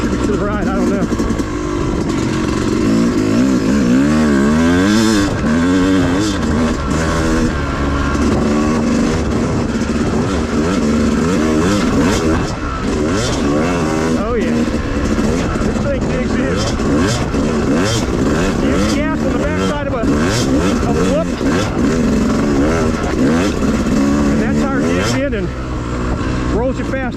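Yamaha YZ250 two-stroke dirt bike ridden through woodland trails at Wambaw OHV, engine revving and rising continuously with throttle blips and shifts, close and loud throughout, with a rider talking over it.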